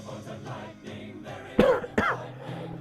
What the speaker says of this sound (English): Oh, man, this cough.